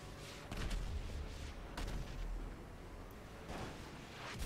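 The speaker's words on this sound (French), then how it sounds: "Le missile, il m'a dégommé." A missile blast in an online multiplayer video game: a heavy low boom rolls in early, followed by further dull thuds and rumbling impacts over a steady noisy background.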